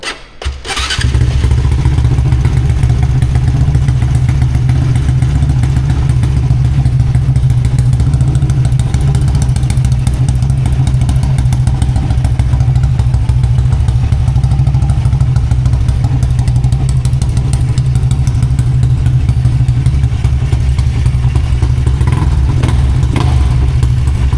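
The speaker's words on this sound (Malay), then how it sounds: "Okay, aku main dengan bunyi dia. Motor idling masih lagi cantik" Yamaha RS150 motorcycle with a single-cam engine running steadily at a loud, close idle, its low rumble and mechanical clatter continuous throughout after a brief start.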